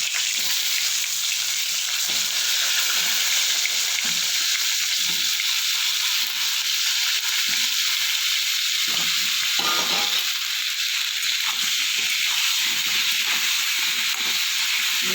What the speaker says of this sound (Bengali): বেগুনটা আমি কিছুটা ভেজে নেব।